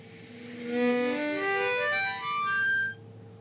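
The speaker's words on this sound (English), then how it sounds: "And if I compare that to the blues band blow, it'll sound like this." A Hohner Blues Band harmonica plays blow notes rising one hole at a time from 1 to 10, a steady, close, reedy run of stepped tones that ends abruptly.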